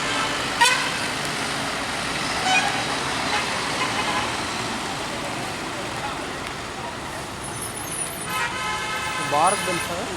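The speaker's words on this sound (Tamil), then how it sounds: "பாரத் பென்ஸ் பாரத் பென்ஸ் ஜெயம் வண்டி செல்கிறது." A Bharat Benz private bus passes on a road, its engine rumbling loudly amid steady traffic noise, with horn toots near the end and talk nearby.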